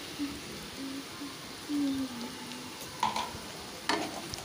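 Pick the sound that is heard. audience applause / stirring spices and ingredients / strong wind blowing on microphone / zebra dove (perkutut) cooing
stirring spices and ingredients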